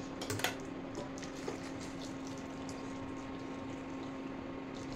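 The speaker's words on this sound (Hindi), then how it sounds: "गरम पानी को मैं ऐड कर देवी" Hot water is poured into a cooking pot in a home kitchen, a soft, continuous rushing hiss that holds steady throughout, with a couple of faint metallic clinks near the start.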